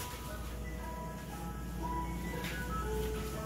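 Faint ice cream truck melody drifts in the distance, thin tonal notes over a low background hum.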